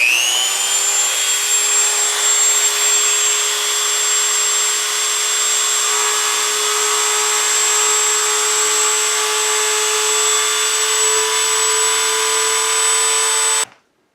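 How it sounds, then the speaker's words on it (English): High-pitched whine of a Dremel rotary tool grinding excess metal from a gun lock plate, steady and loud for about fourteen seconds before it cuts off abruptly. "I'm going to be using a Dremel tool, and we're going to take away some of this excess here"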